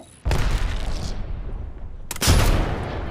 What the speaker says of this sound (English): Oh, they threw a grenade.